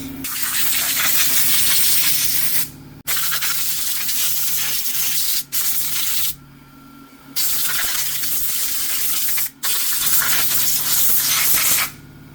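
A hard water spray rinses Porsche 911 engine top-end parts from a 1987 engine: a loud, steady hiss that cuts off briefly several times, with quick pauses near 3, 5.5, 6.5 and 9.5 seconds before resuming.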